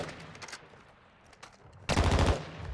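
Bursts of video game gunfire crackle at a distance, then a louder rapid volley of shots lands close, short and sharp, with no talk over it.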